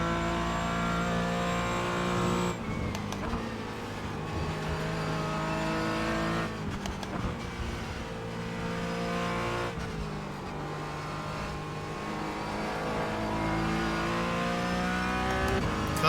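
Porsche Cayman GT4 race car engine in the iRacing simulator, a loud continuous drone rising and falling through gear changes and revs, with brief dips during shifts.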